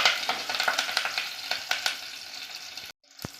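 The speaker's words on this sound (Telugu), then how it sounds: "ఈ తాలింపు అంతటిని బాగా వేగనివ్వాలి" Onion, curry leaves and garlic fry in hot oil in a pan for a tempering for amaranth-leaf dal, a steady close crackling sizzle with stirring scrapes, cutting out briefly near the end before a short clatter.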